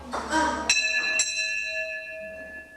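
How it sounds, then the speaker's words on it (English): A big bell on a teacher's desk is rung twice in a classroom, two bright metallic dings that ring on and slowly fade, with some faint talk and room noise around them. "Your teacher start the day with ringing the bell?"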